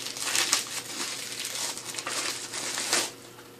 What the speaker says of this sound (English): it's probably better if I rip this sucker open